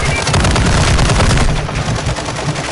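Loud, dense video-game gunfire in rapid bursts runs without a break, booming and harsh from start to finish.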